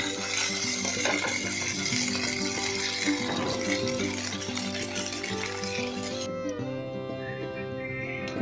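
Marinated chicken is shallow fried in a little oil with garlic. A steady close hiss of frying with a few stirring clinks plays under background music, and the sizzle drops away near the end.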